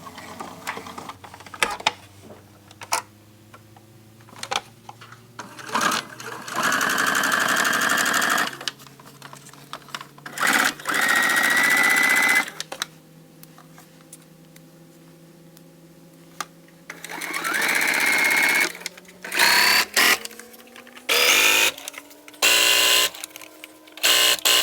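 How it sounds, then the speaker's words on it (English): Sewing machine stitching an apron seam with an eighth-inch seam allowance, several loud whirring runs of rapid stitching separated by pauses and small clicks, close and alone. "And then you will sew down this way and all the way down using about 1/8 of an inch seam allowance."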